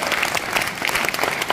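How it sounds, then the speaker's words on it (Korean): An audience at a political event claps together, a brisk, fairly loud burst of many hands with no talking over it. "박수 한번 주시죠"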